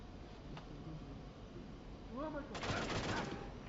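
Guard's gunfire in the stealth game Splinter Cell (PS2), a burst of rapid shots rising near the end over a steady game ambience, with a brief tonal chirp just before.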